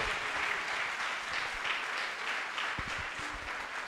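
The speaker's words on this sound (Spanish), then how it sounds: "Es que un fuerte aplauso para Fide nuevamente." Audience applause at a corporate company gathering, a steady wash of many hands clapping throughout, moderately distant and without speech.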